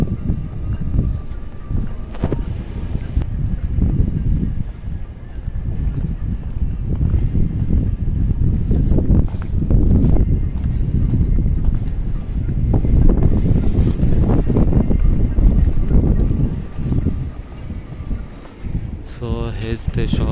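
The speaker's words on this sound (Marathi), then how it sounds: "आणि वारा देखील खूप सुटला आहे इकडे." Strong wind blows outdoors near a vegetable market in Riyadh, buffeting the microphone in heavy low rumbles and gusts while a person talks throughout.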